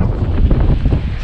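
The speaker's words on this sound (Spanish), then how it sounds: "Mucho, mucho ventoso," Strong wind buffets the microphone at a viewpoint overlooking the Perito Moreno glacier, a loud, continuous gusty roar through the whole brief moment.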